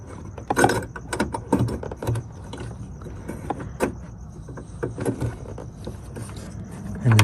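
LED headlight bulb twisted clockwise into the socket of a 2018 Kia Forte LX, producing close plastic clicks, ratcheting and rattling handling noises in quick irregular bursts.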